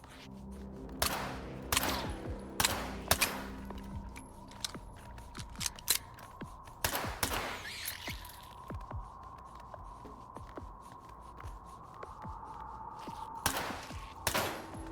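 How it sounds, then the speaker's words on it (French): Suppressed gunfire rings out in STALKER 2 as a series of muffled shots and short bursts, each followed by mechanical clatter, over a steady low hum from the game's ambience. "Je suis en train de vider mes balles de silencieux pour rien"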